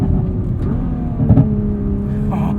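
A 2021 Nissan GT-R Premium's engine hums steadily from inside the cabin while driving on winter roads, with a short burst of crackling exhaust pops in the middle.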